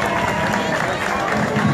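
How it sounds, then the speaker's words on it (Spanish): A crowd applauds at an outdoor Independence anniversary ceremony in a park in La Romana, with steady dense clapping and some cheering and crowd murmur throughout. "Fuerte el aplauso para Doris Núñez."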